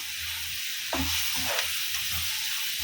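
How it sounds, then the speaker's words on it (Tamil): Ginger garlic paste, ripe tomatoes, a green chili and curry leaves sautéing in a pan for restaurant-style chicken fry, giving a steady close sizzle with occasional stirring scrapes, no talking. "இப்போ நல்லா இது இஞ்சி பூண்டு பேஸ்ட்டு வாசனை போகிற வரைக்கும் நல்லா வதக்கலாம்"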